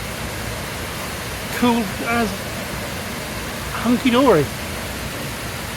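Waterfall on the four waterfalls trail in the Brecon Beacons, a steady broadband rush of falling water running under the whole stretch, with people talking briefly over it.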